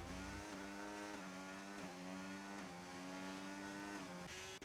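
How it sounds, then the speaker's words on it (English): A papaya-orange race car drives during the Bahrain round of a racing event. Its engine holds a steady, loud, continuous tone with gentle pitch shifts as it runs, and no voices are heard. "Following up on Echo in his big Papaya race car."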